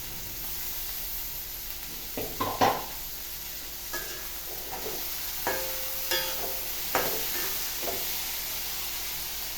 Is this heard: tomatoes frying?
yes